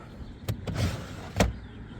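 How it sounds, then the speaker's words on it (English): A 2024 Lexus RX350h Premium Plus hybrid SUV's power trunk opens by kick sensor: a few sharp clicks and latch knocks over a soft motor hum, close by, with no talking. "the kick trunk option, where you can open up your trunk"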